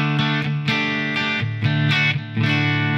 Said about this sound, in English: Now the distortion is really just a gain boost on the amp.